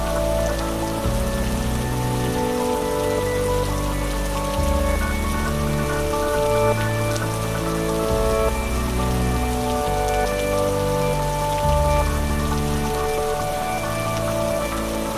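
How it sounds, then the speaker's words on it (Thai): Rain falling steadily in a beekeeping video game, a continuous dense patter heard throughout under a layered musical backdrop, with no talking. "น้ำฝนทำให้ดินมีความชุ่มชื้นจริงๆด้วย"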